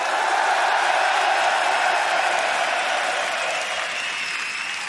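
A large crowd at an LCS esports grand final in Madrid applauds steadily, a dense wash of clapping that tapers slightly toward the end.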